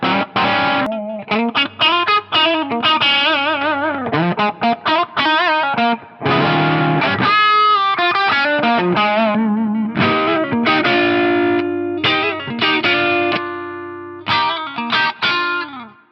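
A PRS electric guitar on its bridge pickup plays an edge-of-breakup tone, lightly driven chords and single-note phrases ringing close and loud with some chorus and effects, no talking over it.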